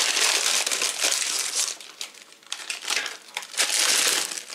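A plastic package of frozen green beans is torn open with loud, close, continuous crinkling and crackling that swells and dips for several seconds, with no voices.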